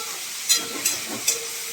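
Pointed gourd fries gently in a small amount of oil over low heat, a soft continuous hiss with three brief, sharper sizzling spurts, close by and without any voices.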